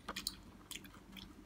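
Someone chews crunchy Indian Sonaka green seedless grapes up close, with a few quiet, crisp bites and squishy crunches in quick clusters, then softer mastication.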